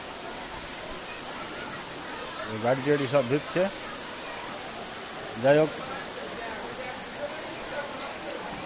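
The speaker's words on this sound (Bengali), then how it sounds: "বৃষ্টি শুরু হয়ে গেছে, তবে বৃষ্টিটা অত জোরে সরে না, মোটামুটি বৃষ্টি হচ্ছে।" Moderate rain falls with a steady, even hiss across the whole stretch, while someone speaks briefly over it twice.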